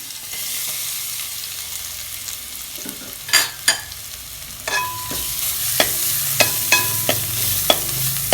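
Ground paste of fennel, cumin, garlic and pepper frying in a spoon and a half of oil, a soft steady sizzle close by with sharp scraping spoon stirs clicking against the pan.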